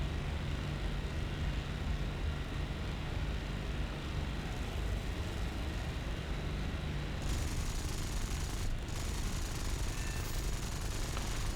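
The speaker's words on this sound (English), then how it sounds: "There's plenty of planes engaging those guys." Propeller fighter planes in War Thunder fly a combat sortie with a steady, dense engine drone that fills the whole stretch without a break. The engine tone shifts partway through, and no voices are heard.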